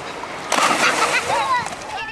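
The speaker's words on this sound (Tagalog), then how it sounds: "Kung dati hindi makapagtampisaw ang mga batang ito sa ilog, ngayon malaya na nilang nagagawa ito." Children splash about in a river, a burst of broadband splashing and sloshing water rising midway with voices of children mixed in.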